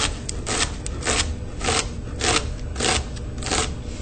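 A kitchen knife slicing into a shallot, with a series of about six crisp, rhythmic crunching cuts close up, each a short rasping burst, and no talk over them.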